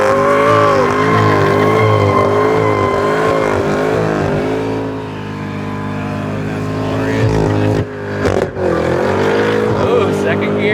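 A 2022 Cadillac CT5-V Blackwing with a manual gearbox roars loudly through a burnout, the engine holding high revs with wavering pitch and tire noise, dropping briefly near the end before surging again; voices talk over it.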